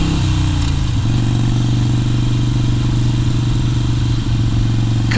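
A Harley-Davidson Iron 883 motorcycle engine while riding along Route 66 on the Great River Road, a loud, steady, low rumbling drone with slight pitch shifts, close and continuous with no voices.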